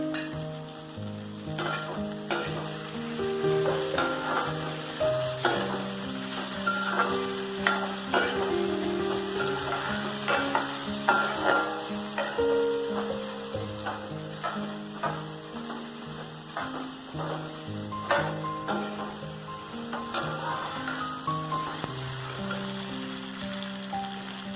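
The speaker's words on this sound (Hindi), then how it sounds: "मैं इसको मोस्टली ऐसे ही आलू को फ्राई कर करके गलाती हूँ" Potatoes fry in a pan for vermicelli pulao, crackling and sizzling close by while a spatula stirs and scrapes in irregular bursts over a long, steady stretch, with no talking.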